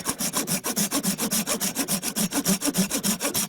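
A folding hand saw cuts through wood in steady, rapid back-and-forth strokes, each stroke a rasping rub, close and loud with no talking.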